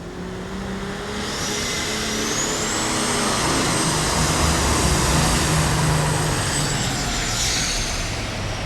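The Hawk, a pulling tractor driven by Robert Galloway, roars down the track at a tractor pull at the 1993 National Farm Machinery Show, a loud sustained engine howl that builds and holds with rising whine, close and unbroken.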